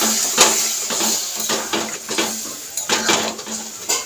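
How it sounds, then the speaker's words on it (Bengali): A spoon scrapes and knocks against a pan over and over as water is stirred into taro curry. "একটুখানি জলটা দিয়ে ভালো করে নাড়িয়ে দিলাম"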